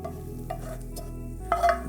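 Bread cubes being stirred in a large bowl with an asparagus and leek mixture for a vegetable strata, giving soft scraping and mixing sounds that grow briefly louder near the end, with no talking.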